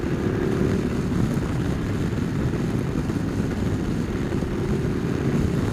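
A Ducati Multistrada twin-engine motorcycle on the move, its low engine rumble steady and close under heavy wind roar, with no talk.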